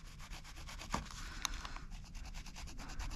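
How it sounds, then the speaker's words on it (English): The plastic back end of a small screwdriver is worked around the bezel edge of an Autometer Lunar Series gauge, producing a quiet, continuous, close-up scraping and rubbing with a faint regular rhythm and a couple of tiny clicks. "the plastic side of the back of a little screwdriver, and I'm just going to work my way around back of the bezel edge like this"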